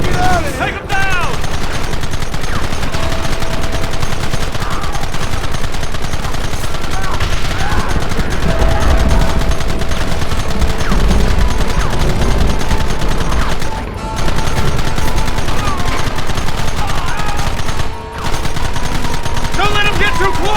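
A loud, continuous gunfight from Red Dead Redemption, with rapid overlapping gunshots and bursts of fire, shouted voices, and brief lulls in the shooting.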